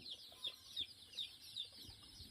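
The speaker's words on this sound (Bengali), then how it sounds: "দেখেন অনেক সুন্দর মুরগির বাচ্চা।" On a small poultry farm, chickens and chicks give faint, rhythmic high peeps and soft clucks in quiet surroundings.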